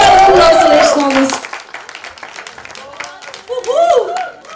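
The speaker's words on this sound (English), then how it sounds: "Can we have a huge round of applause, Suresh Thomas?" Audience applause at a web series launch event, a dense burst of clapping with voices and a whoop at the start, fading into scattered claps and chatter, then cheering voices rising again near the end.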